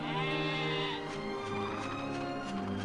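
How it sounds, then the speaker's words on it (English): Sheep bleating in the video game Dragon Quest VIII, Maella Region: one loud, close, wavering bleat lasting a few seconds, with no talking. "Sheep."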